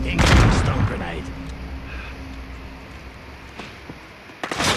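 In Call of Duty: Modern Warfare, a grenade explodes with a heavy burst at the start, followed by quieter battlefield rumble and a second sharp blast of gunfire near the end.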